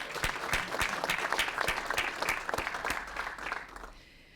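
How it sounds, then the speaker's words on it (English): A crowd at an event's opening remarks applauds its sponsors, with steady, fairly close clapping and a few distinct sharp claps standing out, tapering off after about four seconds. "May I have a round of applause for our sponsors?"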